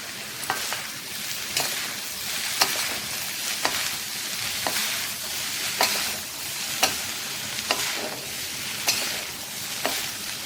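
Chicken and egg being stir-fried together in a pan for hakka noodles, a steady sizzle broken by a regular rhythm of sharp spatula scrapes and clinks against the metal, with no talking.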